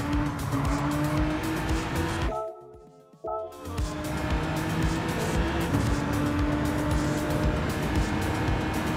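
A Porsche 911 race car in Gran Turismo 7 roars at full throttle almost without pause, a loud sustained engine drone with a tire squeal, broken by a brief near-silent dip partway through.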